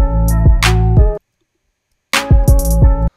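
Programmed drum pattern with a drag made from a 16th note triplet inside a triplet, played twice with a short silence between, punchy kick and snare hits and a quick flurry of grace strokes, loud and isolated.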